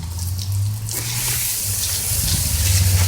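A garden hose sprays water over a car engine to rinse off degreaser, a close, loud, rushing splash that shifts in tone as the stream moves across metal, with a low rumble underneath and no talk.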